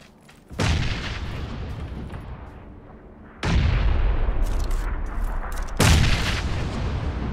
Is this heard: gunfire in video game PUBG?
yes